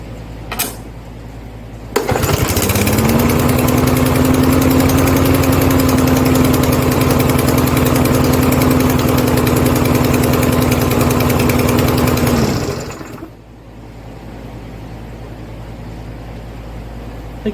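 Lawn mower engine idling steadily after its bad gas was drained from the carburetor bowl and replaced with fresh fuel; a loud, even run of about ten seconds with a low hum, starting abruptly and then dropping back to quieter background.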